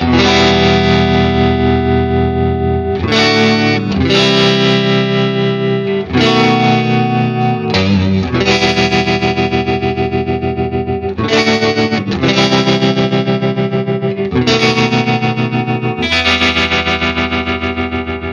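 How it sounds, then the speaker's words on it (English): A Vox AC30 guitar amplifier's tremolo throbs across loud, sustained electric guitar chords, its pulsing rate and depth shifting between phrases, strong and continuous with brief breaks between passages. "Use the speed and depth controls to vary the rate and intensity of the tremolo effect for both channels, from slow and fluid to fast pulsating sounds"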